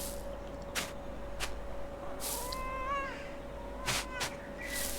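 A cat in the medieval video game Pentiment gives a short, rising meow in the middle, set over quiet game ambience and a few soft clicks.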